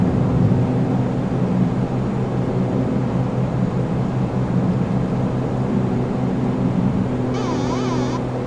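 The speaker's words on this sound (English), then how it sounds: "We're going to rotate. Airborne, up we go." An ATR 72-600 turboprop climbs out after takeoff in Microsoft Flight Simulator 2024, its steady engine and propeller drone with layered tonal hum running loud and constant throughout, a brief electronic chime near the end, no voices.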